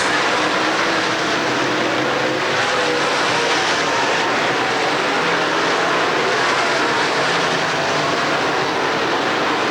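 Race cars circle the Penn National track during a 1998 100-lap race, producing a continuous loud engine roar that holds steady without a break.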